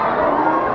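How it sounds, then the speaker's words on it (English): Dense crowd chatter fills a hall at a cheerleading competition, many overlapping voices blending into a steady, loud murmur. "Look at the crowd that's here to watch us."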